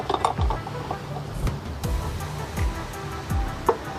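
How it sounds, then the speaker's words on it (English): A small adjustable wrench tightens an EZ oil drain valve on a car: a series of close metallic clicks and ratcheting turns comes in uneven bursts, about five distinct strokes with faint mechanical rattles between them and no talk. "It says use a small adjustable wrench to tighten it up."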